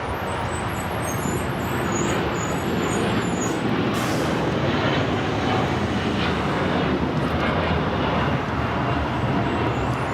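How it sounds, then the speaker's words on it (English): An El Al Boeing 787-9 Dreamliner takes off at Los Angeles airport, a dense, continuous roar of jet engines at steady high loudness throughout. "This is LL Flight 6 taking off to Tel Aviv on the 787-9 Dreamliner"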